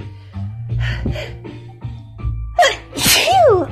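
A strong human sneeze from someone with cold remnants and allergies, a sudden loud burst near the end after quieter breathing and sniffing, close to the listener.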